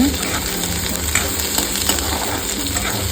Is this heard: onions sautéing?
yes